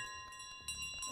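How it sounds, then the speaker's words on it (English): A bell rings in Untitled Goose Game, with bright sustained metallic tones and a fresh strike partway through that makes it briefly louder, heard close and fairly faint with no talking. "Ring that bell!"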